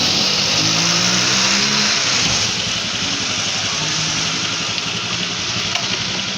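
A damaged motorcycle engine revs loudly and close by for the first couple of seconds, then settles into a rough, steady running idle. No speech is heard.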